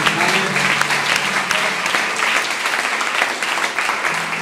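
A church congregation at an evening service breaks into sustained, dense applause, loud and close, a steady wash of clapping hands that fills the whole stretch without a break.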